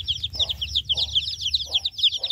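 A chicken clucks repeatedly as a person handles it roughly outdoors in an African village, the short clucks recurring in a steady rhythm over high-pitched insect or bird chatter and a low background rumble.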